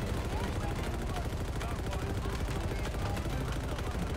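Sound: mounted turret gunfire in Halo Infinite video game

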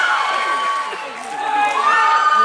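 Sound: audience applause and cheering at a concert

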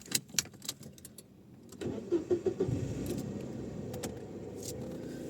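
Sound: car engine running, warming up

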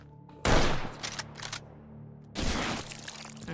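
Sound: grenade explosion in H3VR video game

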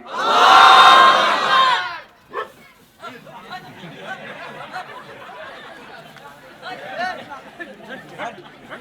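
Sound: crowd shouting takbir, Allahu Akbar

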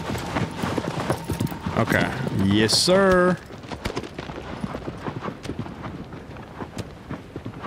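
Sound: horse hooves clip-clopping in Shadow of the Colossus video game

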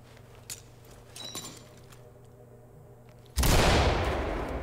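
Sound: flashbang explosion in video game Ready or Not

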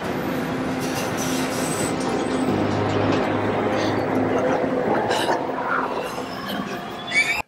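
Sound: train scene from the animated series Invincible

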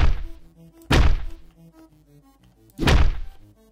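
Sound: heavy hit landing in Hotline Miami 2 video game

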